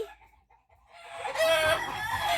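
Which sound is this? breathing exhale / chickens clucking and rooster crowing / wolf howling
chickens clucking and rooster crowing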